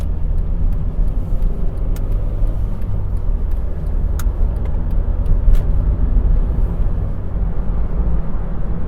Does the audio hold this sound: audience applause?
no